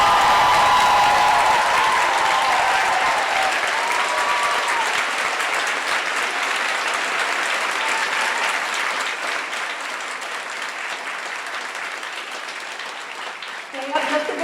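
A large crowd applauds at a college commencement ceremony, sustained dense clapping that slowly thins and fades over many seconds, with faint voices toward the end.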